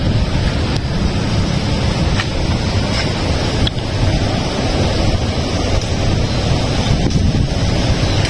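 Steady wind blowing outside The Monarch Hotel in Calasiao, Pangasinan, a continuous loud rumbling buffet on the microphone with no pauses and no voices.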